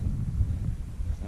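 Gusty wind rumbles across the microphone on an open Scottish hillside during a descent on foot, a low, uneven buffeting with no distinct voices.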